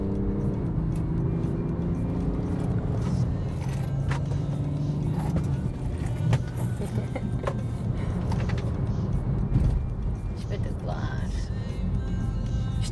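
A 420-horsepower V8 car accelerates hard, its engine a loud, low, continuous roar that builds and shifts in pitch, heard from inside the car while people talk and exclaim over it.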